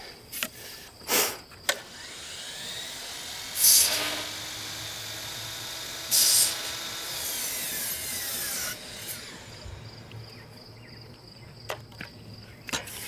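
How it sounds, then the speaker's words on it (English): A hand saw rasps through wooden deck posts in short strokes, with gaps between bursts and a few sharp knocks, close up and steady, while insects chirp faintly behind. "Now we got to cut the posts down."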